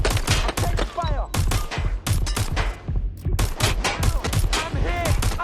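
Rapid bursts of gunfire in the Watch Dogs game, dense repeated shots with quick gaps and occasional whizzing ricochets, loud and close throughout.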